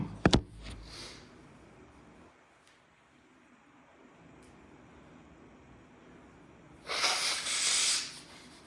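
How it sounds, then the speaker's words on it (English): After a sharp snuffle and a long quiet stretch, a loud, breathy nose blow rushes out for about a second, close up. "I have to blow my nose."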